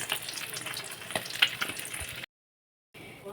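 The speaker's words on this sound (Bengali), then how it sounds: "চলো মাছটা ভেজে নিই" Fish sizzles and crackles in hot oil, close and fairly loud, with a few sharp pops before a brief silence and the frying resumes.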